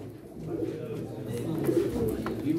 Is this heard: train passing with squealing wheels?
no